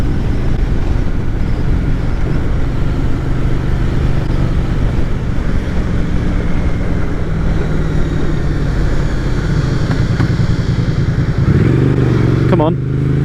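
Motorcycle ridden along the A30 toward Land's End in Cornwall at around 60 mph, a loud, steady engine drone mixed with heavy wind rush, shifting pitch near the end, with a rider speaking over it.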